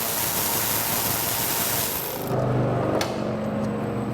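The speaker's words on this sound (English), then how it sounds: "I'm loosening these fasteners in like a crisscross pattern" A hand ratchet loosens the clutch cover screws on a Vespa smallframe scooter, a quick rattling run of clicks followed by a brief sharp metallic tick, close and without voices.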